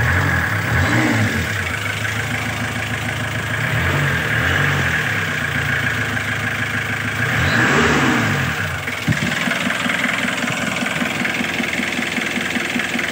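A Kia Bongo 2 diesel engine with a hard-start glow plug fault runs at idle with a clattering knock, rising in several revving swells before settling into a steady rough idle, loud and close.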